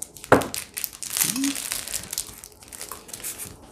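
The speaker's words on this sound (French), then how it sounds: "moi, je vais ouvrir les petits mouchoirs en papier" Crinkly plastic packaging of a packet of paper tissues rustles and crumples up close, with a sharp tear near the start and soft rustling continuing throughout.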